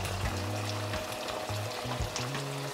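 Marinated beef tapa frying in a little avocado oil gives a steady, close sizzle that runs unbroken through the whole moment, with a low hum underneath.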